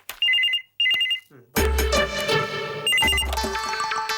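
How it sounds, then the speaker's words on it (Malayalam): A phone ringtone plays two short electronic ringing bursts, then a louder melodic ringtone takes over with repeated tones, close and clear, with no talking over it. "കൃത്യസമയത്ത് ഫോൺ വന്നു"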